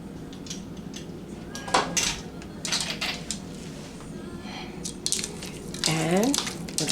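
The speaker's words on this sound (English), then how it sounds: "we're going to stir it around" A spoon scraping and clinking around a pot of shrimp and grits, giving scattered metallic knocks and scrapes, some sharper than others, over a quiet kitchen background with no talking.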